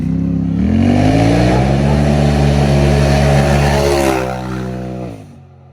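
Polaris RZR side-by-side with a homemade loud exhaust revving hard nearby. The deep, buzzy engine note climbs, holds at high revs, then drops and dies away near the end, with no talking.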